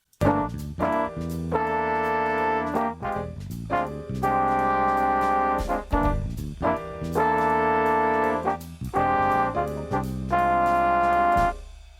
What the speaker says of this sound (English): In this moment, trombones, they sounds like this.